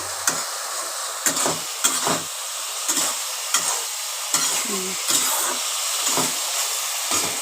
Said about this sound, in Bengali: মশলার সাথে পটলগুলো দিয়ে ভালো করে কষিয়ে নিচ্ছি